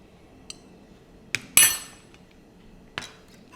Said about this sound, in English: Chop those up just into smaller bits